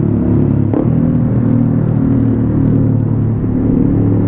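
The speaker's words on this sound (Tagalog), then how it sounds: "Grabe, traffic." Heavy road traffic on EDSA rumbles close by, a loud low drone of car and motorcycle engines with whirring and a brief surge partway through, steady and continuous without speech.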